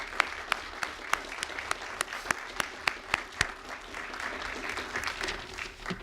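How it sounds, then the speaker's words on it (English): Audience applause at a state infrastructure grant announcement, a sustained wash of clapping with several sharp, louder claps standing out in the first half before it thins into a steady patter. "So a round of applause for all those folks."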